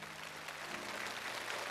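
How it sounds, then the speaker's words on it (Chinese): Studio audience applauding a contestant on a Chinese televised challenge show, a steady wash of clapping from many hands at moderate distance lasting a couple of seconds. "我们也再一次把掌声送给这位巾帼英雄"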